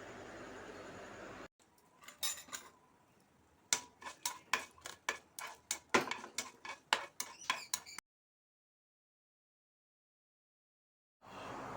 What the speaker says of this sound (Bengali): এর ওপর থেকে আমি 2টো শুকনো লঙ্কা দেবো।